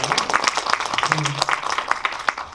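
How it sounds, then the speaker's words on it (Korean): An audience at a film talk event in an indie cinema applauds the panel, with scattered individual claps forming a moderate patter while a voice speaks briefly underneath. "네 분께 박수 한 번만 더 치고"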